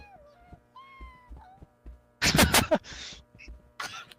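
A voice imitates a cat with several soft, wavering meows, followed by a few loud, abrupt bursts of noise nearby.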